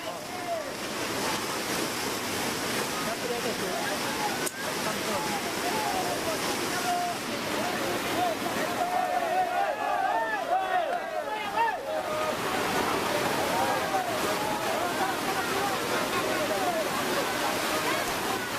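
A swift, flooded river current in Kelurahan Bonjol, Binjai, North Sumatra, sweeping away a house, makes a loud, steady rushing roar of churning water throughout, with faint voices mixed in.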